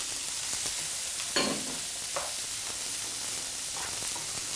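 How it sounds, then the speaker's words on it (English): Diced carrots, white onion and chopped celery sauté in a little oil in a hot pan for Thanksgiving bread stuffing, giving a constant hissing sizzle with a couple of soft stirring scrapes. "we saute it all really nicely in the pan"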